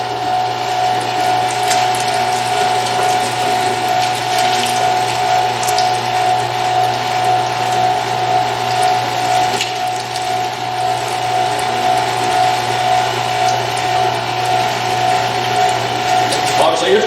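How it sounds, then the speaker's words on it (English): A Meat Your Maker 1.5 HP electric meat grinder grinds chunked meat, giving a loud, steady mechanical whir with a constant motor hum and gear rattle that runs unbroken throughout, close up. "Obviously, it's grinding as quick as I can put it through there."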